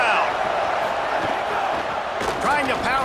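Stadium crowd roar in the College Football 27 video game, a steady dense wash of cheering that swells near the end, with a commentator talking over it.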